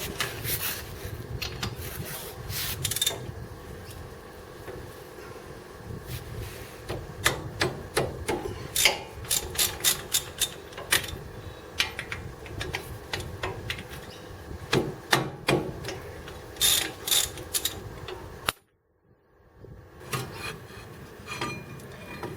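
A ratchet wrench loosens the 21–22 mm brake caliper bolts during a front brake job on an RG Colorado, giving rapid bursts of close metallic clicking with a brief quiet gap near the end.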